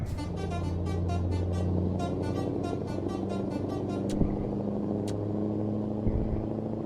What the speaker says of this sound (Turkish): Bu kornayı çok sevdim ben ya.